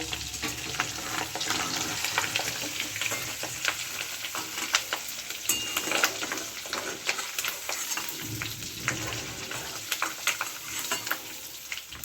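Pieces of fish fried lightly in a pan, turned over during cooking, crackle with a continuous close sizzle under frequent stirring and scraping, steady throughout with no voices.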